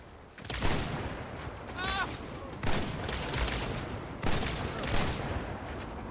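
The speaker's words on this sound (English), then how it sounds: "that Marine just took 4 sniper shots before it died" Sniper rifle shots in Halo 2 Anniversary on legendary difficulty, several sharp loud reports spaced a second or two apart over a busy game soundscape with a brief bird-like chirp.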